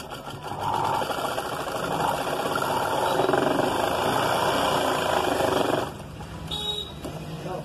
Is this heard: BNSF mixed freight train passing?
no